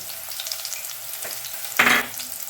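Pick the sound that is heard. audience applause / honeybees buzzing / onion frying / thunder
onion frying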